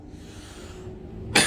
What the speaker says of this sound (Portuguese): Vou desligar porque agora começou foi a tossir.